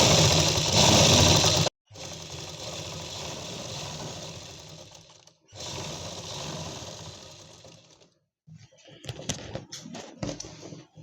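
A sewing machine stitches a seam on an Afghani plazzo in two long, steady, loud whirring runs with short pauses between them, then a few lighter handling clicks.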